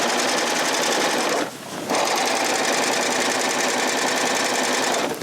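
Close, loud and continuous, a Baby Lock Triumph serger stitches at its slow speed setting with a rapid rhythmic rattle and whir, briefly dipping once before resuming.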